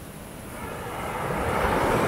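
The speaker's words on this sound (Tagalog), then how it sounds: "grabe ang lakas ng alon" Strong ocean waves at Kelingking Beach in Bali, a broad continuous roar of surf that swells louder toward the end.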